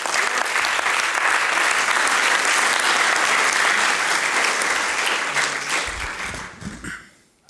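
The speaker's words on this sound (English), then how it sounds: "he has earned a really big hand and a warm applause" Sustained audience applause fills a hall at a sports ethics awards ceremony held at FIFA headquarters, loud and steady clapping from a large crowd that thins and fades away over the final seconds.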